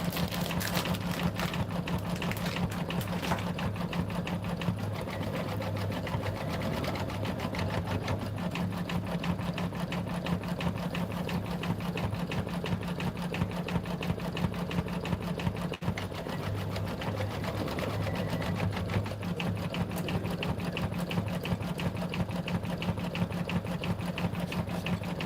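An embroidery sewing machine stitching a satin stitch in darker brown thread on a quilt block, running in a steady rapid mechanical rhythm throughout, close and continuous with a low motor hum underneath.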